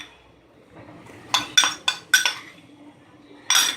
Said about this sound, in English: And we will give it a little bit of a stir